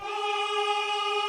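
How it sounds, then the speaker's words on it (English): A single sustained note from the Mars Symphonic Men's Choir Legato Two-Way preset, a steady harmonic-rich sung tone held evenly throughout, close and alone. "I found this preset in their Mars Symphonic Men's Choir called the Legato"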